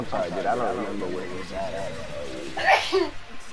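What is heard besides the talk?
sneeze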